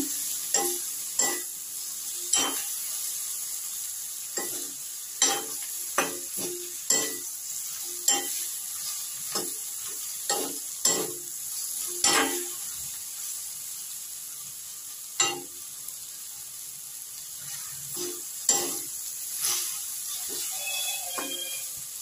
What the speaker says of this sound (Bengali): এইভাবে আমি 2 মিনিট কষিয়ে নিলাম।